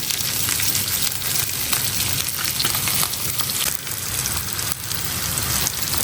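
Fish fries in oil with onion and green chili in a pan, a loud, steady, close sizzle with frequent crackling pops that continues throughout without pause.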